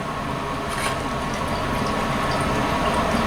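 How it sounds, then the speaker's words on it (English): Cyclohexanol being poured into sulfuric acid in a lab flask, a steady liquid pour with a continuous watery hiss at close range, heard alone throughout. "the procedure calls to pour the cyclohexanol in the sulfuric acid"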